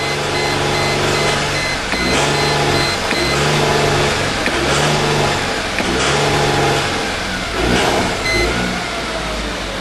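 A 1998 Mercedes E320 engine with a misfire runs at wide open throttle, a loud, rough, continuous drone with uneven pulsing throughout, heard up close.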